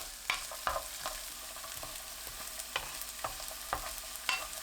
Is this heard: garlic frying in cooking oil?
yes